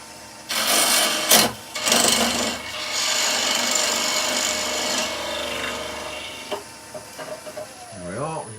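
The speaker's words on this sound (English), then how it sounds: "I'll just take that little plug out with the gouge," A bowl gouge cuts a small wooden plug out of a turning piece on a wood lathe for an insert clock, giving a loud rasping scrape for several seconds, then the spinning lathe runs on more quietly with a few light taps and a voice near the end.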